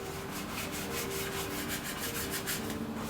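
Degreaser-soaked engine bay of a Nissan Skyline R34 being scrubbed with a small detailing brush, steady close rubbing strokes repeating in quick rhythm throughout, alone with no talk.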